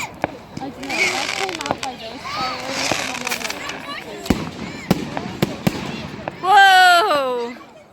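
Fireworks on Bonfire Night pop and crackle in a series of sharp bursts, some close and loud, while children and adults chatter and exclaim excitedly throughout, ending in a loud cry.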